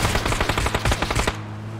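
Automatic gunfire from the video game PUBG rattles out in a rapid, loud burst of about a dozen evenly spaced shots that stops abruptly.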